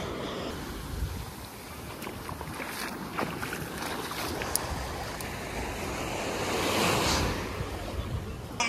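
Ocean waves washing onto a sandy beach at Malaga, a continuous broad roar of surf that swells and recedes, with wind buffeting the microphone throughout and no talking.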